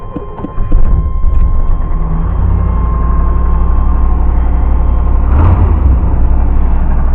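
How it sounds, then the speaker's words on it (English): A Silverado truck engine with Brodix Stage 1 heads starts up and runs loud and close, a deep steady rumble with faint rocker clicking and a brief rev near the end. "so that little bit of clicking in there, that's the rockers"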